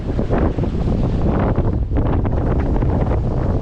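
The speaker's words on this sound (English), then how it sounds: "This wind really hasn't veered much. It's still pretty much dead on our nose here." Strong wind blows across a sailboat heading into a headwind, a loud constant rushing roar buffeting the microphone, with low rumble and faint water wash beneath, no voices.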